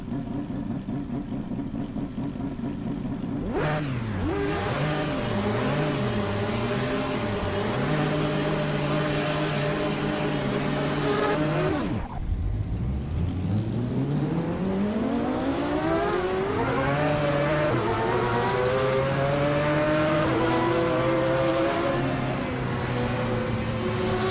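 A Mazda 787B race car in Assetto Corsa revs loudly, its engine note sweeping up and down through gear changes, with a brief drop near the middle before climbing again in a long rising pull.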